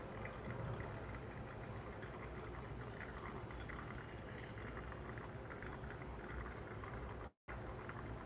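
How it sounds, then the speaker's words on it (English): Water from a kettle is poured steadily over coffee grounds for a pour-over brew, a soft, continuous trickling hiss at close range that runs unbroken apart from one brief gap near the end. "I'm going the last 100 grams of pour"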